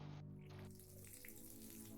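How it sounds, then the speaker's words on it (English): A bath faucet runs a steady stream of water, a soft continuous splashing hiss that holds at a low, even level throughout. "I turn the bath faucet on and get a steady stream going."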